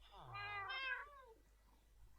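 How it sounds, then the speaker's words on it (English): A cat meows in the Minecraft video game, one drawn-out, rising then falling call that lasts about a second, clear and close against a quiet game background. "And we've gathered some cats."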